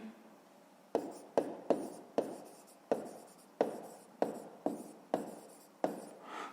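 A pen scratches across paper while numbers are written out by hand for a grade 5 math exercise, a series of about ten short, crisp strokes, each with a sharp onset and brief fading tail, close and quiet, without speech.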